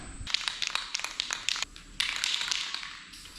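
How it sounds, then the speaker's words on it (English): A spray can hisses close by as wrenches are painted green, first in a string of short sharp bursts, then in a longer continuous spray. "I think I'm gonna spray paint some of these wrenches"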